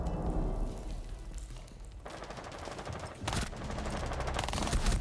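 Gunfire in Rainbow Six Siege crackles in rapid automatic bursts, dense and continuous, with a sharper louder burst midway, heard alone without talk.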